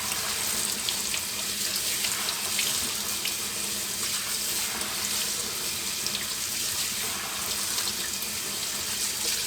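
A running kitchen tap fills a sink while rice is rinsed in a mesh strainer, a steady close hiss and splash of water that continues evenly throughout, with no talking.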